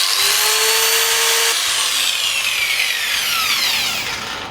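Angle grinder or power saw cutting through a seized steel swing arm pin on a Honda CB750 motorcycle, a loud, continuous high-pitched metallic whine with a rising screech, close and steady throughout.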